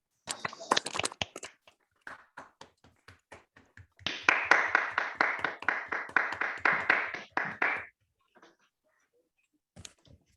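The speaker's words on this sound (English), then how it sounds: "Can we all unmute ourselves and give the speaker a round of applause" Scattered clapping from a small online mathematics seminar audience, a few individual hands tapping unevenly at first, then a denser burst of applause through remote microphones that stops abruptly, followed by near silence.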